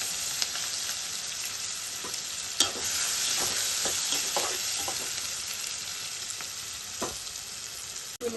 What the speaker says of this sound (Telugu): ఇప్పుడు అదే ఆయిల్లో కట్ చేసి పెట్టుకున్న పచ్చిమిర్చి, ఉల్లిపాయ ముక్కలు